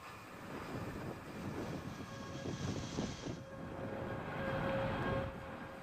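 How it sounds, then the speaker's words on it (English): A ULA Vulcan rocket carrying USSF 106 climbs during launch ascent, giving a continuous broad distant roar that swells slightly toward the end, alone without voices. "Launch Alliance Vulcan rocket carrying USSF 106 for the United States Space Force"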